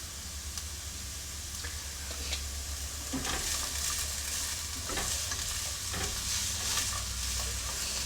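Onions cook in a pan for Cincinnati chili, a soft, even sizzle with occasional stirring scrapes and small clicks, fairly quiet with no talking.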